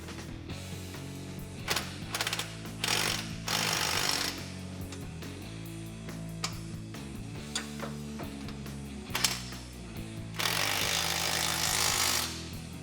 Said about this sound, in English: Next, I'm going to grab a 15 with an extension to tighten down the flange nuts.